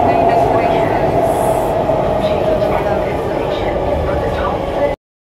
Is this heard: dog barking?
no